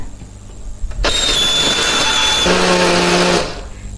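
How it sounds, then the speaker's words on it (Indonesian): A kitchen blender grinding spices starts abruptly and whirs loudly, a steady high motor roar with a pitch shift midway, then winds down near the end. "Hari ini aku pakai blender aja."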